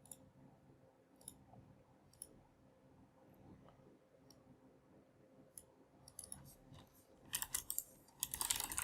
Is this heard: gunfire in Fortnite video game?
no